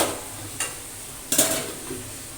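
Okra stir-fried with mustard in a pan gives a steady sizzle, broken by a few sharp scraping bursts from stirring.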